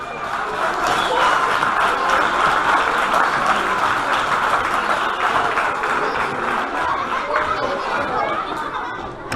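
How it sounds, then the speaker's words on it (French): A studio audience applauds all the participants at the close of a celebrity fencing show with lightsabers, steady dense clapping with some laughter and chatter running loud throughout. "Et on peut applaudir tous les participants aussi."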